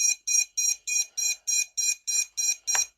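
Beeper buzzer on an Eachine LAL5 S drone sounding a loud, shrill electronic tone in evenly spaced pulses, about ten short beeps in steady rhythm, close to the microphone.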